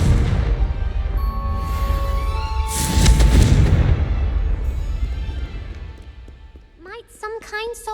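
A Confringo blasting spell bursts in the Hogwarts Legacy game, a loud booming explosion around three seconds in that rumbles through a busy game scene, followed by bright chirping effects near the end.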